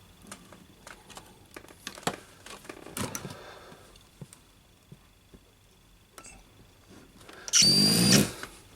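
A cordless power drill bores a pilot hole for fitting a roller blind in one short, loud whirring burst of about a second, following quieter handling clicks and taps.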